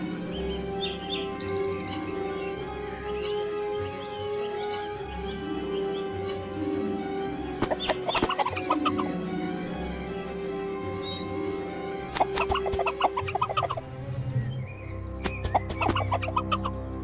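A chicken clucks and cackles repeatedly in the video game Lost Lands 10, with bursts of sharper squawks over a layered musical and ambient background.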